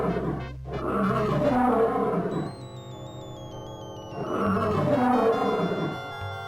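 A tiger in King's Quest V lets out two loud, growling roars, each lasting about two seconds. A synthesized game tone fills the gap between them.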